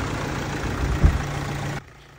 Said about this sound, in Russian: Мотор вроде работает без лишних шумов.